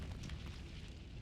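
A short, muffled whoosh and crackle of the Incendio fire spell in Hogwarts Legacy, a low rumbling burst of flame at moderate level.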